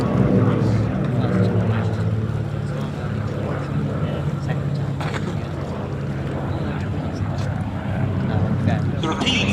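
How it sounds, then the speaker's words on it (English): A de Havilland Dragon Rapide with two 200 hp Gipsy Six engines and an Avro Anson with two 420 hp Armstrong Siddeley Cheetahs fly together at an airshow, giving a steady propeller-engine drone under continuous talking. "Contrasting engine notes, a pair of 200 horsepower de Havilland Gypsy 6s on the Rapide, two Armstrong Sibley Cheetahs of 420 horsepower each on the Anson."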